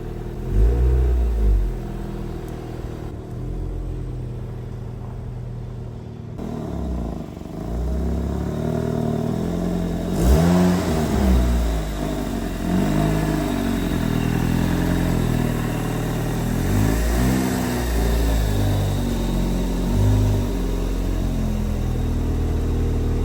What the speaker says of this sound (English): So this is the sound of the factory exhaust, the Nismo factory exhaust.